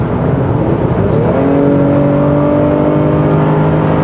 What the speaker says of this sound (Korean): 이렇게 쭉 가속을 해보면은 기존의 혼다 SOHC가 다른 가솔린 대비해서 조금 베이스 음 부드러운 톤을 내는데